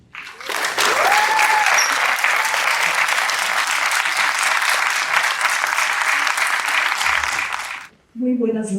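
Strong, sustained applause from an evening panel audience at a talk on Bolivian forest fires, loud and steady for several seconds before cutting off as a voice begins speaking.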